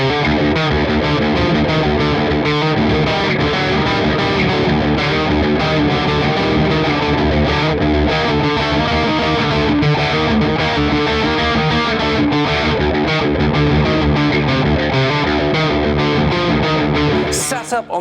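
A Hofner Shorty electric guitar played through high-gain distortion, a loud, dense, sustained wall of crunchy chords and notes filling the whole passage without pause.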